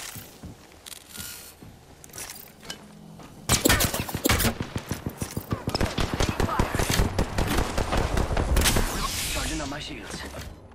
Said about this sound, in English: The second squad is firing on us.